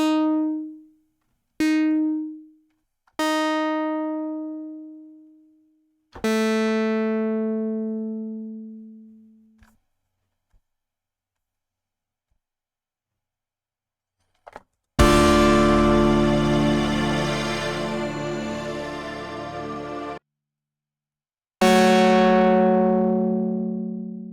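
U-he Diva software synthesizer patch shaped by filter and amp envelopes: a series of separate bright, buzzy synth notes that strike and fade, several short ones then longer decays, and a sustained harsh chord, with silent gaps between.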